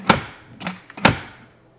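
Several quick mechanical clicks and knocks, close by, as a drawer latch snaps shut; three distinct hits in a brief sequence.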